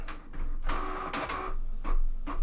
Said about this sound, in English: Now my printer's going.